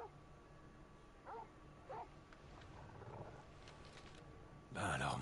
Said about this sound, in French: Va voir ce qu'il a. Il aboie pas pour rien.